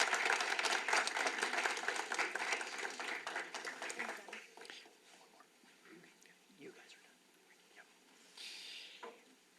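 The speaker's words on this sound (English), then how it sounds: "One more round of applause, everybody." A crowd at a school district board meeting applauds loudly at first, the clapping thinning and fading over several seconds, with a brief swell of claps near the end.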